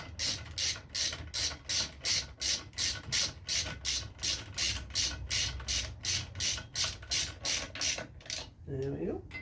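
A ratchet clicks in a steady, even rhythm as a bolt is tightened while fitting engine bars to a Honda NC750X motorcycle. A voice speaks briefly at the end.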